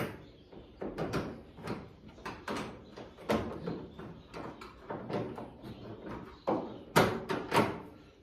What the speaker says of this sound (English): Move the door up a little bit.